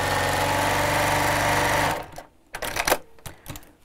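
A sewing machine stitches across the sides of a curved-top tote bag with a steady, loud, continuous run of needle strokes, then stops abruptly, leaving a few soft handling clicks and rustles.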